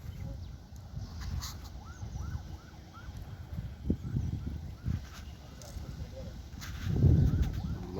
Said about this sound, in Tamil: மயில், பொட்டை மயில்.